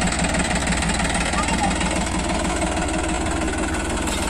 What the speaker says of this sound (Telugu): ఆమె ఎలా ట్రాక్టర్ తోలుతుందో చూద్దాం